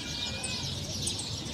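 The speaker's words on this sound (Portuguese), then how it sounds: "São várias espécies de pássaros aqui." Several bird species, including canaries, sparrows and tanagers, chirp and sing together in a town square, a dense continuous twittering chorus at steady volume with no talk.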